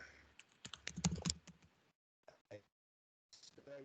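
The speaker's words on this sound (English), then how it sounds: "it might be here that I want to type" Fingers type on a computer keyboard in bursts of close, quick clicking keystrokes, broken by short pauses, with faint speech slipping in near the end.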